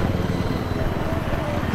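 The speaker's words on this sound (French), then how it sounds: "J'entends une autre hélico." Helicopter in the video game Battlefield 3, a steady broadband rotor and engine drone at constant loudness, with faint low rhythmic thumping.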